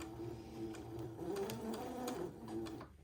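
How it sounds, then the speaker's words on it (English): A sewing machine runs a straight stitch through a lace panel being attached to a dress, its steady mechanical whir holding fairly constant and moderately loud across the whole stretch before stopping abruptly at the end. "using a straight stitch, I'm going to sew this panel"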